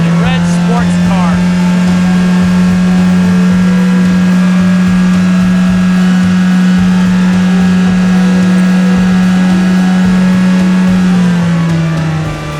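A toy red sports car races with a loud, unbroken engine-like drone at a steady pitch for about eleven seconds before it slightly drops at the end.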